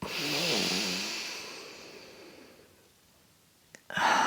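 A long, airy breath drawn in through the nose during a kundalini yoga practice slowly fades to near silence. A brief click follows, then the next breath begins.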